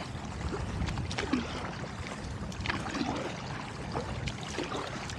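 Steady wash of water against a kayak paddled near the Belt Parkway Bridge in Brooklyn, NYC, with soft irregular paddle splashes and light wind noise, faint and continuous throughout.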